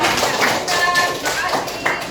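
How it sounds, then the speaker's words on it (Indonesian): Pupils in a classroom clap for a correct answer in an Islamic studies lesson, producing a short run of evenly spaced, fairly loud claps close by, with voices mixed in. "Kita kasih tepuk tangan dulu."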